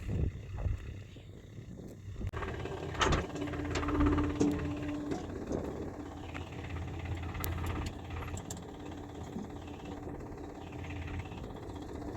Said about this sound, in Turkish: Traktörümüz de geldi.